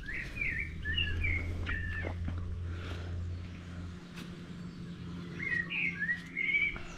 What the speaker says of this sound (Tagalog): Ang mga huni ng ibon ba,